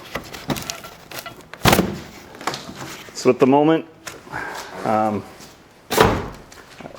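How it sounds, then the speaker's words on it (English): A person talks while two dull thumps of a small, light foam model car door being shut sound close by, one early and one near the end. "The doors will open, believe it or not."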